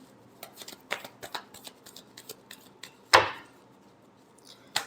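A deck of tarot cards is shuffled in quick riffling bursts, followed by one sharp slap partway through and a final tap, all close and with no talking.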